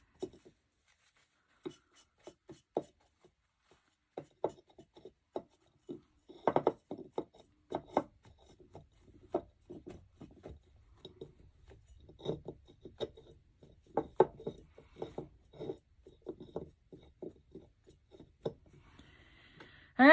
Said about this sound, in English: I'm just rubbing this along the top edge so that's not a bright white along the top edge.